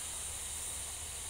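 Steam hisses steadily from an Afghan kazan pressure cooker on a wood fire, a loud, continuous, close-up hiss with no break and no voices.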